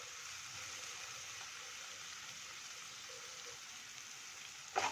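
Onion, tomato and capsicum sauté in a pan with a steady, soft sizzle that hisses on without a break, fairly quiet and close, with a brief clatter near the end.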